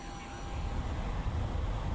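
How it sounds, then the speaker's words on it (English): Steady low roar of Su-25T jet engines idling as the aircraft taxis in the DCS flight simulator, a continuous rumbling drone with no distinct peaks, fairly loud and close. "the engines have started, so let's go flying"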